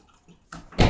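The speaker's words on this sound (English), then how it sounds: "you just fill up the rest with water" Water pours into a cup to top up a homemade morning drink, building from a soft trickle to a louder, fuller splash near the end, close by with no talk.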